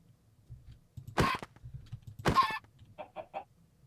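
Chickens in Minecraft Sky Factory give a few loud squawks, then a quick run of short clucks, close against quiet room noise and light clicking.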